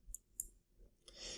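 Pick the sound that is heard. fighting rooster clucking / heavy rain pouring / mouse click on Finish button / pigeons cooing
mouse click on Finish button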